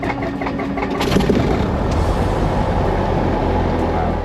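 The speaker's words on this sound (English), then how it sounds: "I started up the engine" A small plane's engine starts up, catching after about a second and settling into a loud, steady, close rumble that continues without a break.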